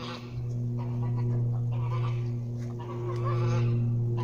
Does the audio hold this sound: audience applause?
no